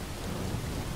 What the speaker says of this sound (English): That's why the rain sounds awesome and also looks awesome.